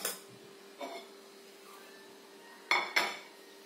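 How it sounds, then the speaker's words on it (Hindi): Bhel puri with fresh green coriander being tossed in a bowl, a few sharp clinks and scrapes of a spoon against the dish spaced over a few seconds, otherwise quiet. "अभी हम इसको मिक्स कर लेंगे"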